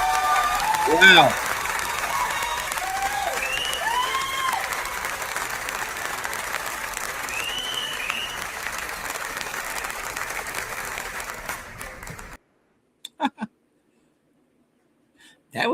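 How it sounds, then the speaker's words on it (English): Audience applause after a poem reading on a morning live show, a dense, steady wash of clapping that rolls on for about twelve seconds before stopping abruptly, with a few faint sounds afterward. "I'm thinking now if I can keep that clapping in there"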